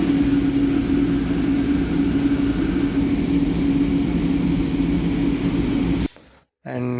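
Airport ambience in Ethiopia: a loud, steady roar of aircraft engines and ventilation with a constant hum, running unbroken before cutting off abruptly near the end.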